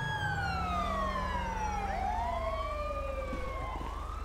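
Police car siren in GTA San Andreas, a wailing tone sweeping down and back up several times, steady and clear over a low engine hum, with no voices.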